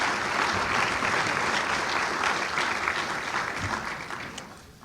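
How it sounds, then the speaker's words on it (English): An audience at a business council luncheon claps steadily in a dense, even wash of applause that slowly fades toward the end. "Let's applaud all our new and our not so new members."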